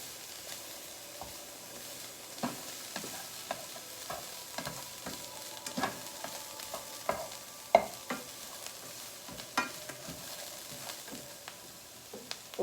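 Pumpkin soup ingredients sizzle steadily in a hot pan, with repeated clinks and scrapes of stirring throughout and no talking.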